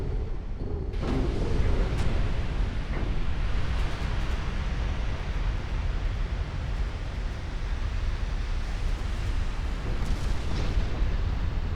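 Torpedo explosions in the naval warfare game Ultimate Admiral Dreadnoughts, a continuous heavy rumbling roar with booming bursts layered over one another for the whole stretch, loud and dense with no talking.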